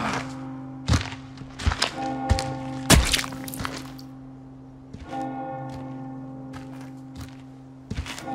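Heavy church bell tolling in the Resident Evil 4 Remake game, struck several times at irregular intervals with long ringing decay, mixed with dull thuds and knocks.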